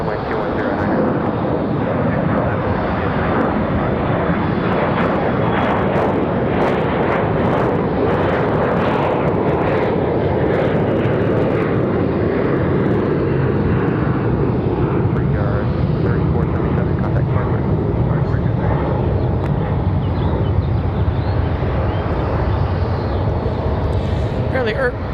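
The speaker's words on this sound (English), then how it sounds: "very steep climb out for that United Express" A United Express jet takes off from Raleigh Durham International, its engines roaring loud and steady for the whole stretch, broad and rumbling, with someone talking over it.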